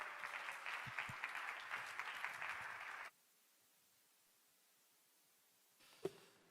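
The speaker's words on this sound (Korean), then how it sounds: "큰 박수로 환영해 주시기 바랍니다." A church youth service congregation gives the pastor a warm round of applause, steady and moderately loud for about three seconds, then abrupt near-silence followed by a faint single thump.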